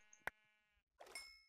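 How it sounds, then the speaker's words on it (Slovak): Sheep bleats from the Minecraft video game: one short, sharp bleat near the start, then a longer wavering bleat about a second later, clean and fairly quiet with no talking. "Čierna ovca, poď sem."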